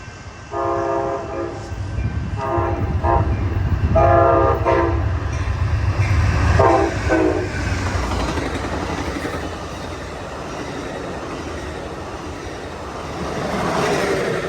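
A westbound Amtrak California Zephyr passenger train at LaGrange, Illinois, sounds several loud horn blasts in a repeating pattern while its rumble and wheel clatter build and then fade as it passes, with no talking over it.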